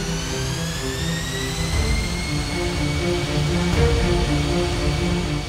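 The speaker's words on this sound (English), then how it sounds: "The gigantic aircraft created a loud engine noise as it moved in a southeast direction towards Perth, Australia." A British Airways airliner's jet engines roar steadily during takeoff, a loud broadband rush topped by high rising whines that build gradually and stay continuous throughout, with no voices.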